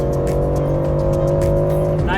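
A modified Polestar Volvo race car slides through a corner on track, its engine holding a steady drone while the tires squeal, the sound ending in a sharp scrub near the end, under a driver's voice talking throughout.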